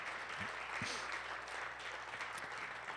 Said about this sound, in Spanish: Despedimos las ofrendas con un aplauso, por favor.